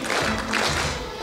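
Audience applause at an award ceremony for social workers, a dense burst of clapping from a hall crowd that holds steady through the short moment.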